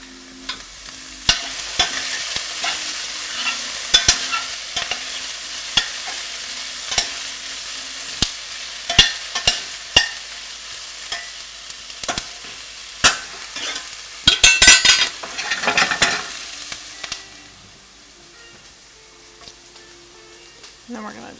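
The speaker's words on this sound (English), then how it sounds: "Let me go give that a stir." Food sizzles steadily in a hot pan while a utensil stirs and scrapes with repeated clinks and knocks, louder bursts midway, then the frying settles to a softer hiss near the end; a voice speaks briefly.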